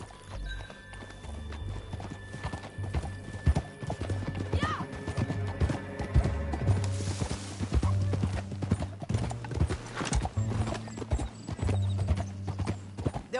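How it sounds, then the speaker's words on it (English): Hooves clip-clop in a quick, uneven rhythm as a horse moves along in the video game Red Dead Redemption 2, with an occasional whinny and low rumbling game ambience underneath. "Back on your horse. Let's get after them."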